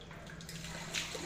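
Water drawn and splashed into the nose during Islamic ablution (wudu), a soft, close wet sniff and trickle over a steady background of running water, with a brief hissing burst near the end.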